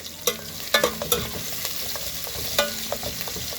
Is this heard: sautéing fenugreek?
yes